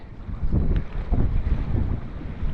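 Steady wind buffets the microphone with a low, rumbling roar that rises and falls in gusts throughout.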